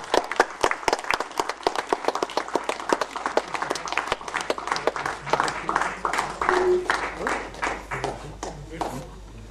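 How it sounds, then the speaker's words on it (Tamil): At an Indian dance event honouring a family of artists, an audience claps in sharp, uneven bursts that thin out toward the end, with an announcer's voice heard under the applause. "கரகோஷம் விட்டு வரவேற்றுக் கொள்வோம்."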